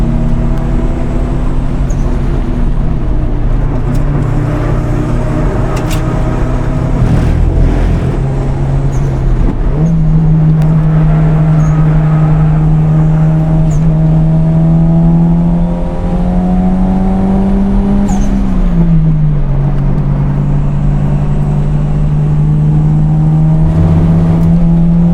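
A Toyota Celica GT-Four driven on the Nürburgring, its engine droning loud and steady from inside the car, pitch climbing and dropping with gear changes and throttle, no talk.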